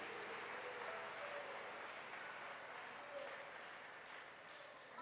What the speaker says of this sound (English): So, shall we give a clap offering to Seto?